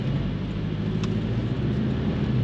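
A Porsche 718 Cayman with a mid-mounted 2-litre four-cylinder engine and PDK gearbox is heard from inside while driving, a steady low engine drone mixed with road noise at an even level.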